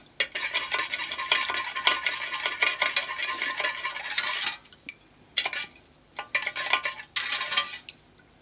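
A spoon stirs brine of salt and sugar dissolved in water for sauerkraut, giving a steady run of scraping clinks against the container, then brief pauses and two more short bursts of stirring, close and fairly loud.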